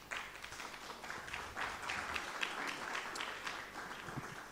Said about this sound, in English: So a round of applause to Mr. Bonnie Mbidi, who is the CEO of WEEE Center